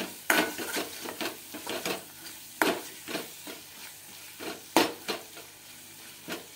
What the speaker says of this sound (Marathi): मिक्स करून घ्यायचं आहे आणि असंच हलवायचं आहे स्पूनने